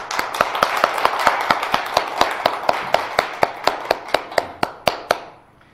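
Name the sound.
church congregation clapping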